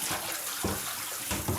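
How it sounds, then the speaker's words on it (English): Garden hose spraying water over the edges of a plastic cat litter box, a continuous gushing rinse with splashing shifts as the stream moves. "first I rinse all the edges and get all the litter crumbs off of it."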